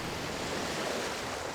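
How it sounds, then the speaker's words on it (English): Roiling ocean waves of the Lotamo Sea near Limsa Lominsa in Final Fantasy XIV form a steady, loud wash of surf and wind noise that holds at an even level throughout, with no voices. "Amidst the roiling waves of the Lotamo Sea"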